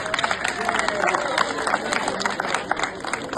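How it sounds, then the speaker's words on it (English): Audience applause for the president, a crowd clapping in a dense patter of overlapping claps mixed with murmuring voices, steady and lively through the whole stretch. "I think the president deserves a round of applause."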